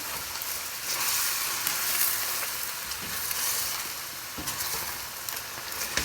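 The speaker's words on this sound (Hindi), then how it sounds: "इस पॉइंट पर हमने लिड नहीं ऊपर देना, ऐसे ही ओपन ही हमने फ्राई करना।" Chicken for korma fries in an open pot over a medium-high flame, a dense continuous sizzle with periodic stirring scrapes, close and unaccompanied by speech.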